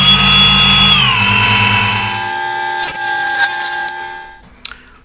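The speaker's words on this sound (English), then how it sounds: "we've got the parting off tool in there. It's just a very thin blade." A thin parting-off blade on a lathe cuts into a spinning metal propeller spinner blank, giving a steady high ringing whine with shifting tones that settles, then ends with a faint click.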